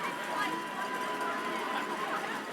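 Subdued crowd murmur fills a CFL football stadium during a Saskatchewan Roughriders at Ottawa Redblacks game, a steady, low, tense babble without big cheers, heard under nearby talking.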